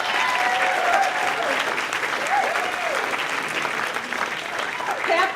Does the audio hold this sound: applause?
yes